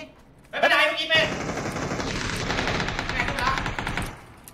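Rapid bursts of gunfire from the PUBG video game crackle densely for several seconds at a Thailand esports match, loud and close after a short shout.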